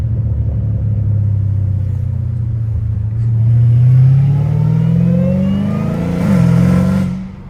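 A straight-piped Dodge Hellcat Redeye engine revs loud and close, its pitch climbing steadily before a sharp blip near the end, with the exhaust note echoing off the surroundings.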